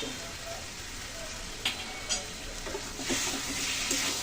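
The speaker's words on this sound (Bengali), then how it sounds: "ভালো করে মিশিয়ে নিচ্ছি" Cumin and garam masala powder stirred into cabbage frying in a pan: a steady close sizzle with a couple of sharp spatula scrapes and knocks, and the frying grows louder toward the end.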